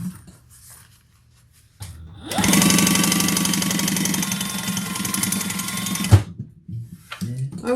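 A sewing machine stitching with Tex 70 thread after a bobbin change runs in a loud, fast, steady whirring rattle for several seconds, then stops abruptly, with quiet handling sounds before and after.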